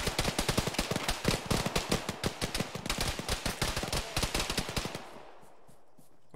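Rapid automatic gunfire in a military video game, shots crackling in dense, fast bursts aimed at the player for about five seconds before the racket cuts off and a faint echoing tail fades out.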